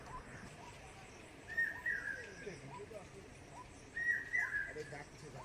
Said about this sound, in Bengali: রাতের যে পাখিগুলো, সেই পাখির ডাক